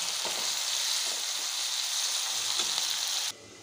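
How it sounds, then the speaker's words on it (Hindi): Whole spices such as cinnamon, black pepper, cloves and cardamom frying with onion and tomato in a kadai, giving a steady bright sizzle with a few soft stirs before the sound drops away near the end. "इसे हम प्याज और टमाटर के साथ ही डाल के अच्छे से पका लेंगे।"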